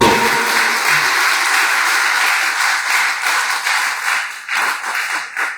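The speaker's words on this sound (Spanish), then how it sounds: "Denle un aplauso al Señor" A congregation applauds the Lord during a sermon, a loud wash of clapping that holds steady, then breaks into separate claps and tapers off toward the end.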